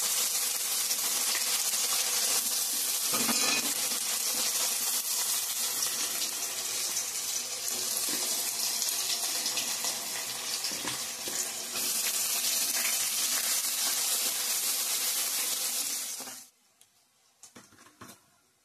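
Chopped onions hit a pan of garlic already browning, giving a loud, steady, close hiss of frying that runs unbroken for most of the time, then drops off sharply near the end.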